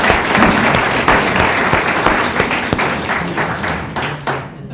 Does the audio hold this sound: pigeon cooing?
no